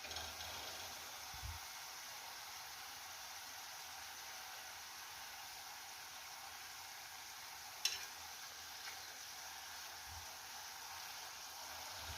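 Cottage cheese dumplings sizzle steadily in a frying pan, a soft continuous crackle with an occasional faint clink, no voices.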